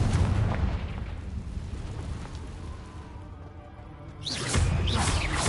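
A Confringo blasting spell bursts in a cave in Hogwarts Legacy, loud rumbling explosive booms at the start that fade, then a fresh crackling blast near the end, with no talking.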